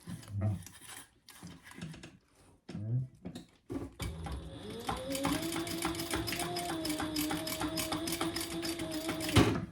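After a few seconds of talking, a sewing machine runs steadily for about five seconds with a fast mechanical clatter and hum, top stitching the folded ends of a zipper tag.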